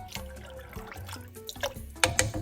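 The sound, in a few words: pouring 1.5 cups of milk into sauce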